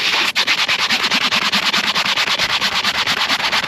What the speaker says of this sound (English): let's go ahead and scrub